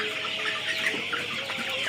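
Chickens cluck softly and steadily while feeding on maize, a close, continuous flock murmur with no voices over it.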